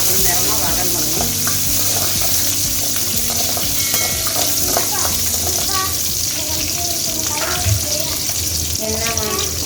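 Small onions sizzle and fry in a pan while being stirred for a home-style broad bean sambar, a steady crackling hiss with scraping and clinking utensil sounds throughout.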